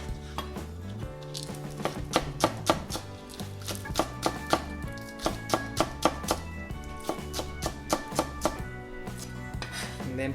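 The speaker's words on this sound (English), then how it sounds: "if you have a green onion, chop them finely" A knife finely chops green onion on a cutting board in quick, regular taps, crisp and close, over steady background music.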